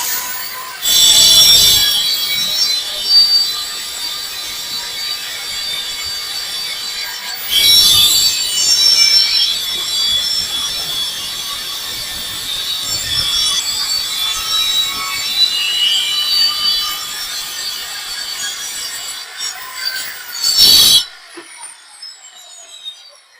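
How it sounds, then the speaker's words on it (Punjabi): A tile cutter scrapes steadily across tile, with three sharp, loud bursts of cutting spread through the long, grinding stretch. "ਉੱਤੇ ਕਟਰ ਦੀ ਪਲੇਟ ਬਸ ਉੱਤੇ ਆ ਜੇ ਇਹਦੇ ਇਸ ਤਰੀਕੇ ਨਾਲ ਇਹਨੂੰ ਕਟਿੰਗ ਕਰੋ"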